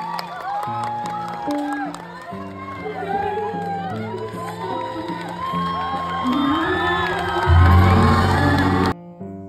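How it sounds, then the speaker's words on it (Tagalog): Audience cheering, shouting and whooping for Kim Chiu's dance performance on a TV variety show, loud continuous crowd noise over music, building toward the end. "Naghihiyawan at pumalakpak ang audience habang pinanood si Kim Chiu"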